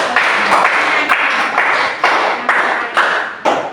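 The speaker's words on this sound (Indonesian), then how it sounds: "Silakan berikan aplaus kepada." A classroom group claps for a presenting team, a dense burst of many hands clapping together in several short waves, loud and close with brief gaps between bursts.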